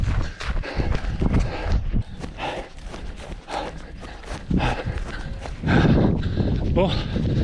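Horses on a trail during a trail-running race, their hooves clip-clopping in an irregular walking rhythm, close by and fairly loud beneath continuous talk and outdoor movement noise.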